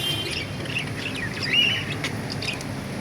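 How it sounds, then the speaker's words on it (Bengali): A flock of budgerigars chirps in a mixed aviary, with scattered high, quick tweets over a soft background hum. "এক ঝাঁক বাজিগর"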